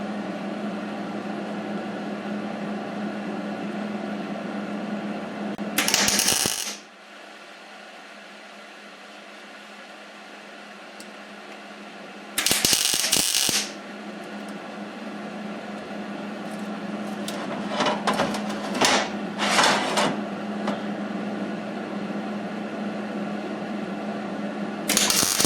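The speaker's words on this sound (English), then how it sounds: "put a couple tacks on it, we'll flip it over, put tacks on the back side" Tack welding corners of square steel tube: a steady welding hiss broken by a few short, loud crackling bursts, with quieter spells between them and no voices.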